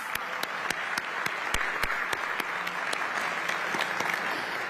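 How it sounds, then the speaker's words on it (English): A round of applause at a Martin Luther King Jr. holiday breakfast: a steady roar of a large crowd clapping, punctuated by sharp, rhythmic claps close by, continuing without pause. "Can we get another round of applause?"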